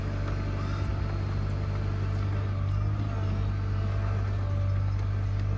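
A skid steer runs and is steered around on a farm, its engine a steady, loud, low rumble with a constant droning hum and no pauses or talk.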